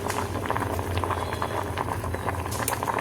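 Potatoes boil in water in a cooking pot, bubbling and pattering in a busy, continuous stream close by with no voices.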